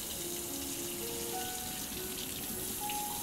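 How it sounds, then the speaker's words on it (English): A cutting board washed under a running kitchen tap, a steady continuous rush of water splashing against the board, close and even throughout, with no talk. "So we gotta wash it for show."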